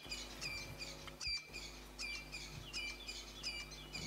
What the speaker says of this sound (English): the Franklins going bananas. That's the dawn chorus.